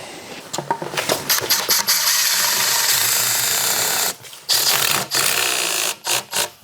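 Coated exterior-grade washer-head screws driven with a power driver to seal a radon sump lid in a basement, heard as several short bursts of driver whine separated by brief pauses, close and loud.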